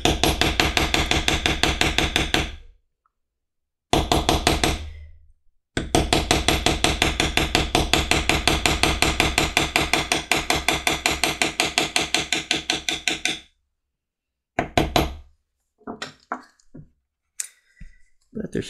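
Steady rapid mallet taps on a leather beveling tool while carving poppy flowers on a leather book cover, close and loud in long runs of even strikes with brief pauses, then a few scattered knocks.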